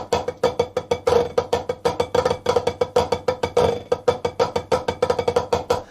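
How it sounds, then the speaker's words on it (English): Snare drum played with traditional grip in a dense, asymmetrical pattern of sharp strokes mixed with short buzz rolls, close and loud, with no voices. "A traditional grip pattern often sounds like this."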